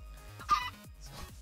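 A chicken hatching from a thrown egg in Minecraft gives a short clucking squawk, a brief bird call standing alone in the quiet game audio.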